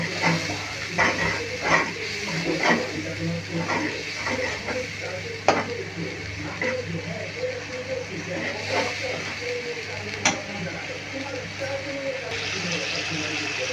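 Turmeric and coriander powder are stirred in a pan for Tular Dandi fish bhuna: a soft sizzle under repeated scraping and tapping strokes of a spoon against the metal, with a voice talking intermittently.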